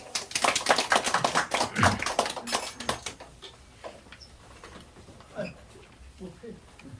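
Audience applause at the Freedom Village Myeongdong launch ceremony, a burst of dense clapping over the first three seconds that quickly thins to scattered claps and quiet murmuring voices.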